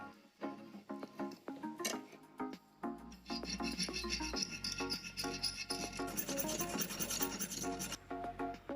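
A 6mm bolt is slotted by hand with a cutting tool, giving faint, rapid rasping strokes at first and then a steadier, denser scraping run, close up and with no speech.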